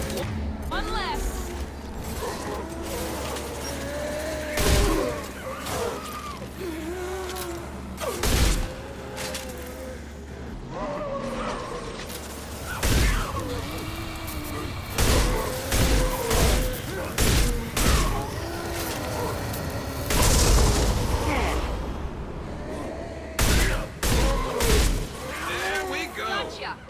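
Gunfire from a Mass Effect 2 firefight, with repeated loud sharp shots and bursts standing out over a steady low hum and game effects, while someone talks through much of it.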